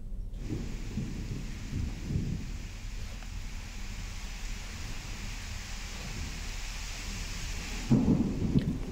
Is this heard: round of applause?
no